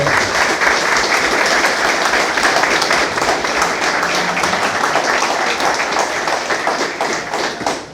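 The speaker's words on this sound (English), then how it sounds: "So, give Eamon a round of applause for what he's doing today" Warm audience applause at a book launch about Belfast and Ardoyne, dense sustained clapping from a room full of people that holds steady for several seconds before easing slightly.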